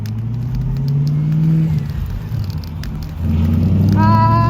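Road traffic rumbles along a street, with car engines droning and one vehicle revving up near the end, fairly close and steady throughout.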